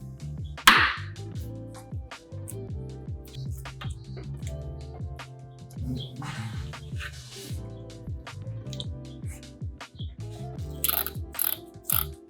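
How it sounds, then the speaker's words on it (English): A custom Seiko watch's rotating bezel is turned repeatedly, giving a series of small close ratcheting clicks in uneven bursts over a quiet background with faint mechanical handling noises. "The action of the bezel is tested and broken in for a bit."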